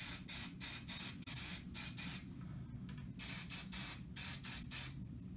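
Spray primer hissing from a can onto plastic model kit sprues in short repeated bursts, about a dozen quick close-up sprays with brief gaps between them.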